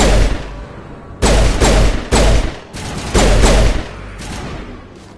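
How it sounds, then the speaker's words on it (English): Gunfire in a Mass Effect firefight, loud bursts of rapid shots in several separate volleys, each a dense crackling clatter with booming low thuds, spaced by brief lulls. "Those were shots, man."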